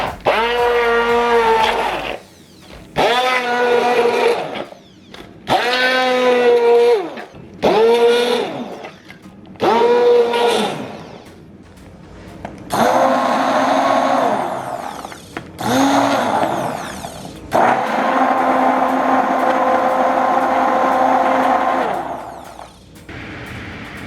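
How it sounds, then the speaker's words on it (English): An immersion blender whirs in repeated short bursts through strawberries, its pitch bending and straining as the fruit thickens, then runs in longer continuous stretches near the end, loud and close with no talking. "I'm going to use my immersion blender to do this."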